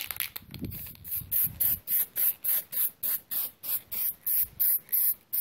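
Rapid, rhythmic hissing bursts of matte clear coat sprayed from an aerosol can, about a dozen short blasts close by, with brief gaps between them.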